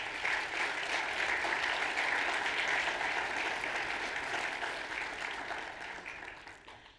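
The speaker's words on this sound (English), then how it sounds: "Give them a round of applause." Sustained crowd applause at a health careers student induction ceremony, a steady wash of many hands clapping in a large room, holding strong for several seconds before gradually fading out.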